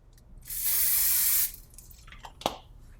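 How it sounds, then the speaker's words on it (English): Oil spraying onto a pancake pan while cooking lemon ricotta pancakes: one steady, close hiss lasting about a second, followed by a few small clicks and a soft knock. "We'll spray with oil."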